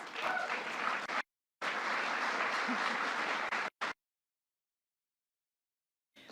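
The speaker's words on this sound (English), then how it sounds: "Yes, you can applaud." An audience at a White House Tribal Nations event applauds, a steady burst of clapping that cuts out briefly, resumes, then stops abruptly and leaves near silence.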